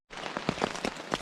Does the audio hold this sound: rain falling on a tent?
yes